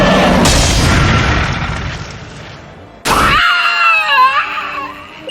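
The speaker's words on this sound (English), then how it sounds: "Dragomir, use Draco Breaker." Draco Breaker, the dragon Dragomir's attack in the video game Manamon 2, lands as a loud booming crash with a roaring noise burst, and then a sharp impact gives way to shrill, wavering, scream-like synthesized tones.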